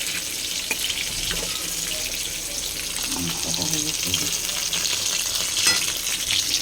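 Pond fish fry in a pan with a steady close sizzle and crackle. A few clinks of handling come through partway, and there is no clear talk.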